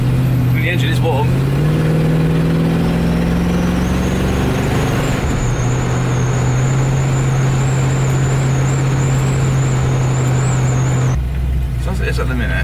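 Ford Mustang V8 engine idling as it warms up, a steady low rumble with a rough, hunting idle that threatens to cut out, close and loud with a faint whine layered above and a brief blip at the start.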